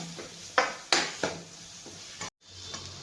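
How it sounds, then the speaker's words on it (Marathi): Homemade black masala with a little red chilli powder roasting in a pan for a village-style drumstick curry, with a few sharp scrapes and clinks of a spoon against the pan over a faint sizzle, then a brief pause. "आपला घरचा काळा मसाला हे थोडस लाल तिखट टाकलेलं आहे मसाल्याला आपण छान भाजून घेऊया"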